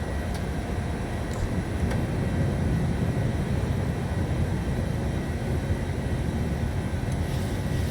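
PMDG 737-700 climbing after takeoff in Microsoft Flight Simulator: a steady, loud jet-engine roar with deep rumble holds evenly throughout, without breaks or voices.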